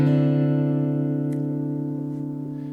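Ringing electric guitar notes from the intro of a song hold as a steady chord, sustaining alone and slowly fading over a few seconds.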